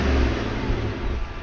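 A 2023 GMC Yukon Denali Ultimate heard from outside, its engine and exhaust giving a brief, loud, close rumble that surges and then settles slightly.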